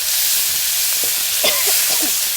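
Marinated pork pieces, coated in egg white and a little seasoning sauce, fry in a pan for an eggplant stir-fry with fermented soybean paste. A steady, loud sizzle runs throughout, with a few soft stirring scrapes.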